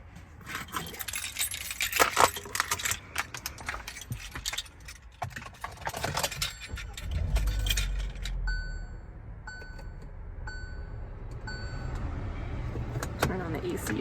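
Car keys jangle in bursts of metallic clinking close by inside a car, followed by chimes and a low engine hum, with a person talking at times.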